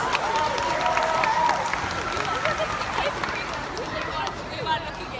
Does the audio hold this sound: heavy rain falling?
no